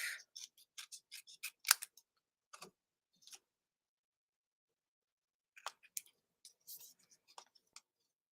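Paper card pieces trimmed with scissors at close range, a quick run of crisp snips followed by a couple of isolated cuts, a long pause, then another scattered series of short snips.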